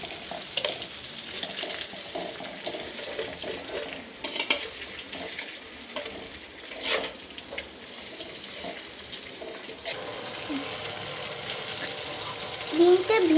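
An egg frying in a pan with already-fried onion and green chilli, a continuous sizzle with stirring scrapes and some watery sounds, steady and close throughout.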